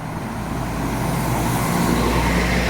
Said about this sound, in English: And you see tourist bus, this one from Poland, full.